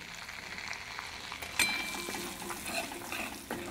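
Red chili being stirred in a hot pan, giving a steady soft sizzle and crackle with a few sharper clinks of the utensil against the pan.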